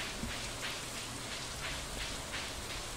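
Steady rain falls on a rainy day in the video game Stardew Valley, a dense even hiss of drops at moderate level that continues unbroken, with no voices.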